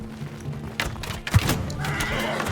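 A horse whinnies in the Mount and Blade Bannerlord video game amid a battle, a short neigh rising over dull thuds, hoofbeats and clatter, with a heavy thump near the middle.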